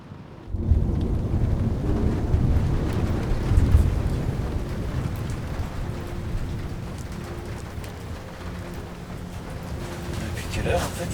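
Rough weather at sea aboard a racing sailboat: rain and gusting wind batter the microphone with a heavy low rumble that swells early and then eases to a steady roar, with a brief voice near the end.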